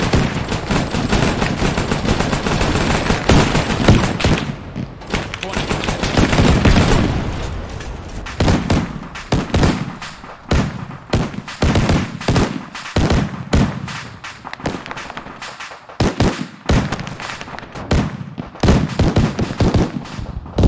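Heavy bursts of gunfire from a front gun during a video game battle, loud and close, with long continuous volleys giving way to sharp, separated shots and short rattling bursts.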